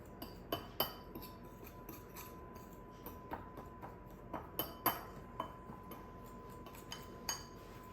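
Cinnamon being mixed into a peanut streusel of brown sugar for peanut butter banana chocolate chip muffins, heard as light clinks and taps of a utensil against a bowl in an irregular rhythm, quiet and close.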